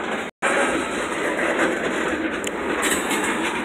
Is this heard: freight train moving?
yes